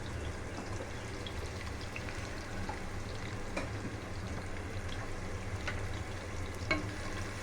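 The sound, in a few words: onions frying in a pan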